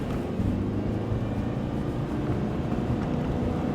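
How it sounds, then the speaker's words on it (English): The CVT transmission of a 2014 Subaru Crosstrek drones under acceleration, a steady low hum mixed with road and engine noise heard from inside the cabin, continuous and without speech. "Can you guys hear the CVT drum?"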